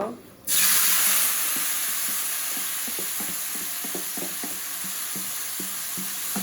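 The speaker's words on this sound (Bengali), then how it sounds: "এই যে জিরাটা হয়ে গেছে আমার এখন দিয়ে দিব মেখে রাখা মাংস" Marinated meat drops into hot oil with toasted cumin, and a loud sizzle erupts suddenly and holds as a strong steady frying hiss, with a regular clicking of a spoon stirring the pan.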